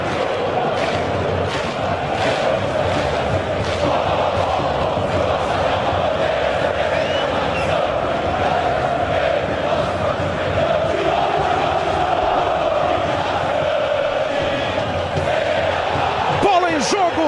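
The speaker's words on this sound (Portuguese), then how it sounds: "Entre no clima da torcida no Pacaembu." Corinthians supporters fill the stands at Pacaembu stadium before the 2012 Libertadores final against Boca Juniors, a dense, steady roar of crowd singing and shouting that holds loud and constant throughout.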